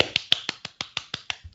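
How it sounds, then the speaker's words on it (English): Hands clap about nine times in quick, even succession, each clap sharp, crisp and close, with a slight fade toward the end. "I was clapping the listeners out there who all got it correct"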